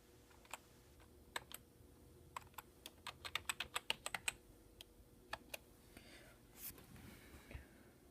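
Keys clack as a password is typed on an iMac G4 keyboard: scattered single taps, then a quick burst of crisp keystrokes, fairly faint and close, in an otherwise quiet room.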